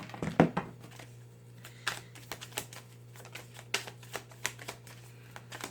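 Tarot cards being shuffled at a reading, with a series of quick crisp riffles and snaps spaced across a few seconds, close and fairly quiet over a steady low hum.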